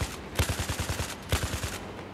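Automatic weapon fire in the video game Battlefield 4: two rapid bursts of loud, close shots in a steady rattling rhythm, with no voices over them.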